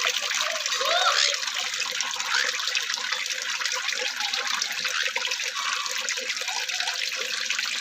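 Water splashes and trickles continuously and fairly loudly as a pet bird plays in water with a Japanese turtle, a steady close wash of liquid noise with no talking.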